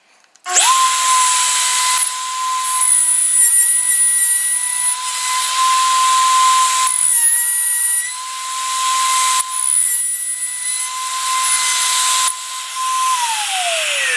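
A router cuts a wood mortise guided by a universal edge guide and mortise jig, giving a loud high-pitched whine that holds steady while the bit plunges and dips in repeated passes, then winds down at the end.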